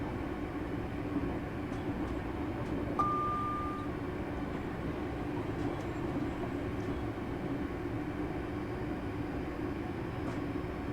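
A ScotRail Class 385 electric train in Train Simulator Classic runs along steadily, a continuous low rumble and hum from the cab with faint clicks and one brief tone, no voices.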